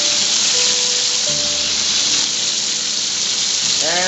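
Smoked pancetta hitting a hot pan, a steady loud hiss of frying that holds evenly throughout, close and alone with faint clinks near the end.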